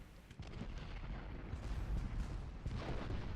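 Artillery fire in the Ultimate General: Gettysburg game, a Civil War battle at the heights on 3 July, rumbles as low, dull booms. They are faint and distant and keep going throughout.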